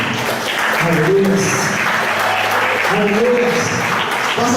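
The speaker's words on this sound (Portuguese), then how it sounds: "dê uma linda salva de palmas para o Senhor" Steady clapping from a church congregation fills the space while a preacher speaks loudly over it.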